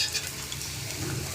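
Methi puris frying in hot oil in a kadai, a steady, dense hiss and crackle of sizzling that holds constant and close throughout.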